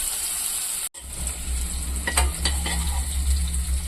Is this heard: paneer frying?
yes